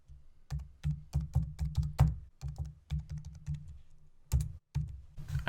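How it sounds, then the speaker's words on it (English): Close, quiet clicking of a computer keyboard while typing text in Photoshop, a steady run of key presses with short pauses and one louder clack near the end. "Click, and then we can start typing."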